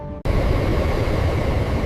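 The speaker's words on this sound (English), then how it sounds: "The train accelerates beyond 300 kilometers per hour to prove its high-speed stability." High-speed train running beyond 300 km/h during factory stability testing, a loud, steady broadband rush and rumble that cuts in abruptly after a brief quieter start and holds constant.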